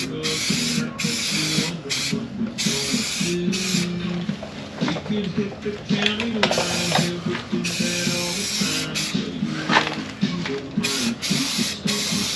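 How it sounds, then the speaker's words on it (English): Short bursts of aerosol spray hiss as a coating is sprayed onto a rusty Ford F250 truck panel, with repeated rattling can clicks between passes. Someone talks throughout. "you spray this on just like paint, and it's about the same consistency as black paint"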